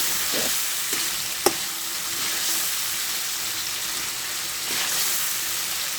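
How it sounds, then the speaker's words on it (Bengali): Tengra catfish cooking down with spices in a hot pan, a steady broadband sizzle and fry throughout with a couple of sharp utensil clicks against the pan, close and fairly loud with no talking. "অনেক সুন্দর করে ট্যাংরা মাছটা কষিয়ে নিচ্ছি"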